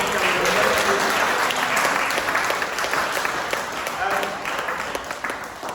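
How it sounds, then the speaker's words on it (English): Audience applause at a Black History Month debate meeting, a dense sustained round of clapping from a crowd that holds steady for several seconds before thinning slightly toward the end. "Can you all give yourselves a round of applause?"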